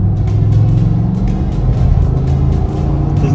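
A Cadillac Escalade engine with its factory air box intake pulls hard under acceleration, a loud, steady deep rumble heard from inside the cabin with faint rhythmic ticks over it.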